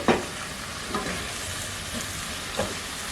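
Celery and carrots sauté in olive oil for split pea soup, a close, even sizzle broken by three scraping stirs of a utensil in the pan, with no talking.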